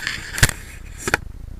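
Computer mouse clicking in quick succession while a Shift key is held to select items, two distinct crisp clicks close to the microphone, each followed by a softer second tap, in a quiet room.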